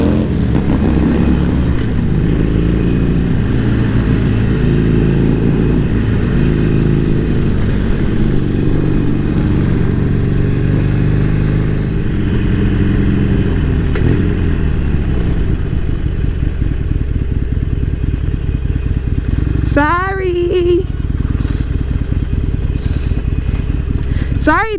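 A motorcycle rumbles loudly and continuously at close range during a ride, its engine droning with steady wind noise. A person talks over it, and a brief whistle-like sound appears near the end.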